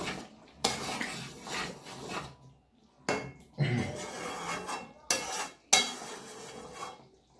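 Meat is lightly stirred in a pan, producing several close bursts of scraping and rubbing from a utensil against the pan, separated by short quiet gaps.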